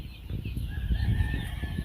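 Chickens and young roosters in a farmyard after a storm, with clucking and a crowing call close by, mixed with scuffling noise.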